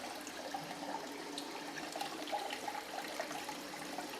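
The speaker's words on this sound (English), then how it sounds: "So I try to keep the water flow, the speed of the spiral consistent." Water runs through a gold spiral concentrator reprocessing tailings, a steady soft trickle and flow that stays constant and fairly faint, with no speech.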